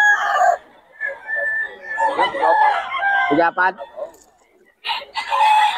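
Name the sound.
roosters, Sweater Kelso crossbreed gamefowl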